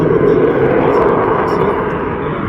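An F-35 Lightning II jet flying slowly during a short takeoff and vertical landing airshow demo at MCAS Miramar, a loud, steady roar filling the air while someone talks over it.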